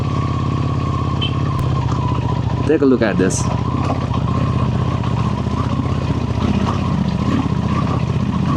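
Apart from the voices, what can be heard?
Ducati Desert Sled motorcycle riding on dusty mountain road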